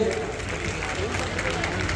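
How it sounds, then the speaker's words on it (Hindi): An audience at a progressive farmers' conference gives dense, steady applause to welcome Chief Minister Vishnudeo Sai, the clapping crowd loud and continuous throughout. "जोरदार ताली बजा करके उनका अभिनंदन और स्वागत करेंगे"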